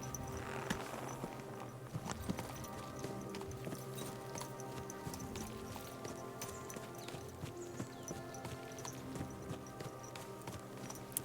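Horse hooves clip-clop in a steady walking rhythm in Kingdom Come Deliverance 2, close and continuous over a bed of game ambience and music, with no talk.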